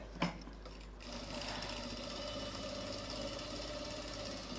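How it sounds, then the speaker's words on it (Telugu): A sewing machine stitching a designer blouse runs steadily after a brief click, giving a continuous close mechanical whir with a fine rapid rhythm and no talking. "సేమ్ ఆ కుట్టు మీద నుంచే కుట్టు వేస్తున్నానండి."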